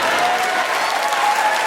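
Audience applause at a comedy show on a touring Manchester stage, a dense, steady wash of clapping from a full house that stays loud throughout without letting up.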